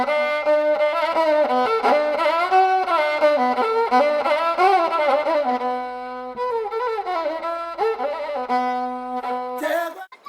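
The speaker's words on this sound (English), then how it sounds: "This guy is playing a one-string orutu," A one-string orutu, a bowed fiddle covered in animal skin, played solo in Tanzania, sliding through a wavering, nasal melody with a steady drone, loud and close for about ten seconds with no talking.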